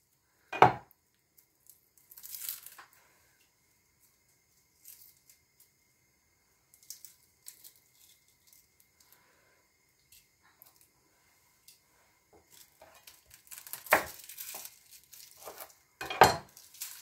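A knife slicing peeled prawns on a cutting board for an Indonesian fiery prawn dish, with scattered light taps and cuts between long quiet stretches and a busier run of cuts near the end.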